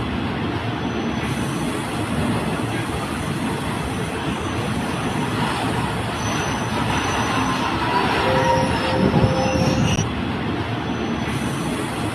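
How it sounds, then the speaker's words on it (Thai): Two trains pass each other at a small rural station in Thailand, a loud continuous rumble of wheels on rail with faint squeals and some clatter, close by. "มีรถสวนขบวนสวนกันค่ะ"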